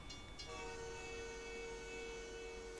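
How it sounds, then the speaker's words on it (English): A train passes and sounds its horn in a video game, a steady sustained horn tone over rumbling rolling noise, loud and continuous throughout with no talking. "I can't hear you because the train's going past and honking its horn"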